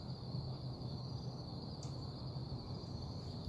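Crickets chirping by a lake, a faint continuous high trill over soft ambient background noise.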